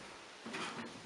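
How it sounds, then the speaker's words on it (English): Driver's door of a 1961 International Scout 80 pushed shut onto its first latch, a single soft, muted clunk against a faint background hiss. "I close this door on the first latch there so it doesn't bend it any more than it has to"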